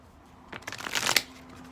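Tarot cards are shuffled for a reading in a short, quiet riffle that builds to a crisp flurry and stops abruptly.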